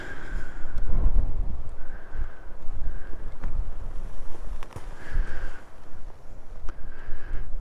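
Steady wind buffets the microphone at Lava Point viewpoint in Zion National Park, a continuous loud rumbling roar with gusts rising and falling over the whole stretch, and no voices.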